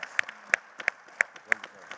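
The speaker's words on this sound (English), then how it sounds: "Give David a round of applause." Scattered, sparse clapping from a small audience at a financial literacy event, a handful of distinct sharp claps spaced roughly evenly, with faint murmuring underneath.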